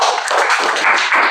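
Short burst of classroom applause as students clap together for a classmate, brisk and fairly close, lasting about a second.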